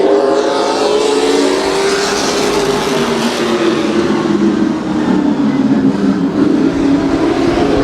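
Race cars accelerate at Houston Motorsports Park, a loud, sustained engine roar that swells and rises in pitch as the pack gets going, with no voices over it.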